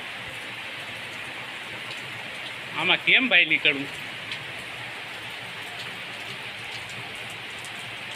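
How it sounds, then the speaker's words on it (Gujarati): Heavy rain falls steadily as a constant loud hiss throughout, with someone briefly speaking over it near the middle. "અહીં પૂગ્યા ને વરસાદ બહુ ચાલુ થઈ ગયો."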